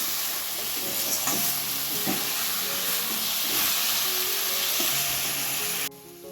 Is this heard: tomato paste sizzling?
yes